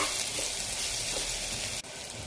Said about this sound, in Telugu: ఉల్లిపాయలు, 2 గ్రీన్ మిర్చి, 1 స్పూన్ జింజర్ గార్లిక్ పేస్ట్ వేసి పచ్చి వాసన పోయే వరకు వేగనివ్వాలి